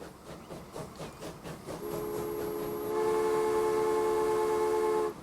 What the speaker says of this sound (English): Our newly designed trains heading out